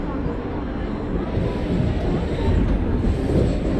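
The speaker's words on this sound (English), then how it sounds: "So you see that train only arriving in the platform." Train arriving at a station platform in a railway simulator game, a steady rumbling rail roar with faint wheel clatter that grows slightly louder, under a voice talking.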